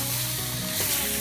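Bacon sizzles and spits in a non-stick frying pan at an outdoor camp stop on a motorbike trip, a steady close hiss with small crackles throughout.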